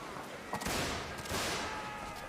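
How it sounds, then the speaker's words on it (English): Scattered musket shots crack out at mid distance, several overlapping reports in quick succession over a steady hiss of background noise, during a line battle in a North & South mod of a video game. "The gunfire still continues."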